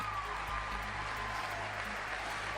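Quiet, steady audience applause on a radio morning show, continuous and low in the mix across the whole stretch, sounding thin and distant rather than full and rowdy.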